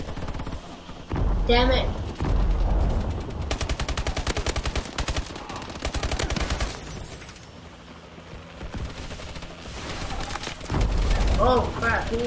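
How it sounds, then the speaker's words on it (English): Rapid automatic gunfire in the video game Call of Duty Advanced Warfare, loud sustained bursts with booms and a voice talking in between. "Oh crap, he's shooting."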